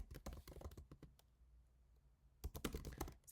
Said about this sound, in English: I'm gonna grab text again and I'm gonna type Happy Galentine's Day.